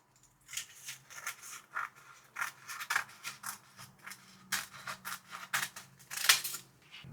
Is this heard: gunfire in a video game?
no